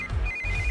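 A mobile phone ringtone plays briefly, a bright repeating electronic tone over a low background hum.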